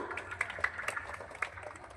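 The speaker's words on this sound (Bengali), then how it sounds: "হাততালিটা সবাই একটু" Faint applause from a small crowd at an outdoor picnic prize-giving for a sporting club's 26 January celebration, scattered claps rising and falling over a couple of seconds.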